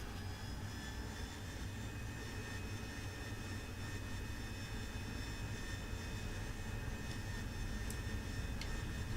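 AV-8B Harrier jet in the DCS flight simulator taking off, a dense, loud jet engine roar holding steady throughout with a high whine on top, alone without talk.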